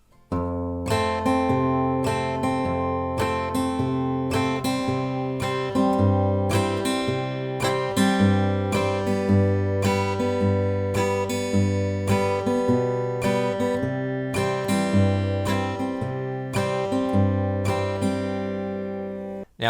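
Clean acoustic guitar is fingerpicked in a steady pattern, bass notes alternating beneath plucked chord tones, played solo and close, on the chorus of a song.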